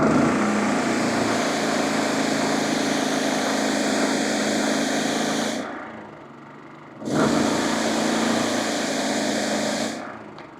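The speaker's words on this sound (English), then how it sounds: "Air compressor." An air compressor runs loud and steady for mobile car detailing, a constant close mechanical drone that cuts out briefly, kicks back in, then starts to drop away at the end.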